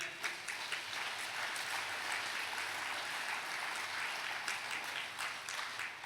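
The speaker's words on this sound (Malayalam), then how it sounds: "ഒന്ന് കൈ ഉയർത്തി കൈയടിച്ചേ." A church congregation claps their hands together in a continuous, dense patter of many palms, steady and moderately distant, with no talking over it.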